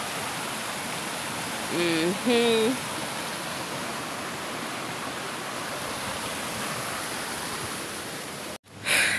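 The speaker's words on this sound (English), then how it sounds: "There is too much water in this river because of the rain." A rain-swollen river rushes along in full flow, producing a steady broadband roar that fills the scene throughout, with a brief murmured voice partway through.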